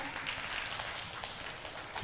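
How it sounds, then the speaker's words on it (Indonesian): Audience applause at a Kominfo "UKM Go Digital" event: a dense, even wash of hand clapping, moderately distant and fairly quiet, continuing steadily without a break. "Boleh kasih tepuk tangan"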